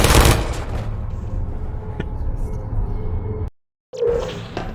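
Rapid automatic turret gunfire from Portal, a dense continuous burst of shots for about three and a half seconds, then a sudden cut to silence before a short electronic chirp and whoosh.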